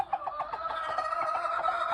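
A rooster picking out oyster shell for his hen gives a rapid run of close, loud clucks, a steady pulsing tidbit call lasting about two seconds with no talking over it.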